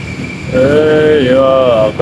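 A train passes nearby, a loud rumbling roar with a steady tonal whine that swells and holds for most of the two seconds, with a voice or horn-like tone layered in.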